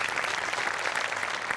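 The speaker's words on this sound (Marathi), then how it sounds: "तुमच्या सगळ्यांसाठी टाळ्या वाजल्या पाहिजेत" A studio audience at a Marathi comedy show breaks into sustained applause, a thick, bright wash of many clapping hands at steady, full loudness with no pauses.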